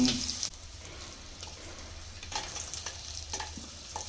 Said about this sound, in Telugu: వెల్లుల్లిపాయ వేసుకోవాలి. తిప్పుతూ ఉండాల వేగేదాకా.